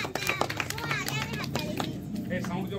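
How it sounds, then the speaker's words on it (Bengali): An audience at a home Teachers Day celebration claps to welcome the host, a short stretch of scattered, fairly quiet applause with a voice talking over it. "বাকি সবাই কিন্তু করতালি দিয়ে সঙ্গীতাকে ডেকে নাও"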